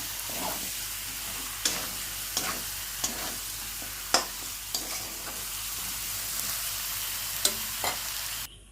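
Meat sautéing in a pan, a steady close sizzle with occasional sharp scrapes and taps of a stirring utensil, no talk.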